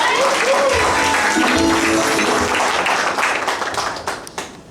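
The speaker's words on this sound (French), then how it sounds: "Les acclamations pour Ange." Applause and cheering for the groom at a civil wedding ceremony: a loud, dense burst of clapping mixed with voices and whoops that gradually thins toward the end.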